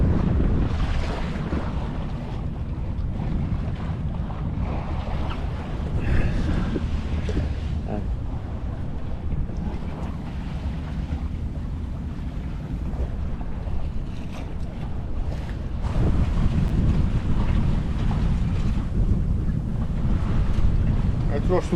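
Sailboat under sail, close-hauled on the Mediterranean near Martigues, with steady wind rushing across the microphone and continuous wash of waves against the hull throughout, loud and unbroken.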